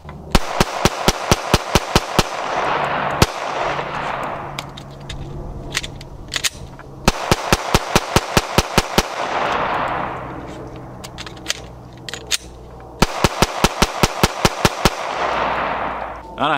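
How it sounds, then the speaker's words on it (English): Rifle fired rapidly through three 10-round magazines, loud close bursts of evenly spaced sharp shots separated by pauses for magazine changes, with ringing echoes after each string. "I got 10 rounds in each magazine, and we're going to go ahead, shoot them relatively quickly, but not as fast as I can"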